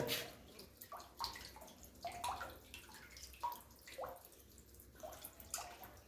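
Quiet water trickling and dripping into a tank, with irregular splashes and gurgles every half second or so over a faint background hiss.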